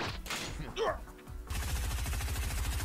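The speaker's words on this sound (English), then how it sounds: "Oh, got that Uzi! Tommy gun!" Rapid bursts of Uzi and tommy gun fire in a Dragon Ball Z Frieza Saga cartoon parody, a steady rattling stream after a brief earlier outburst and a voice.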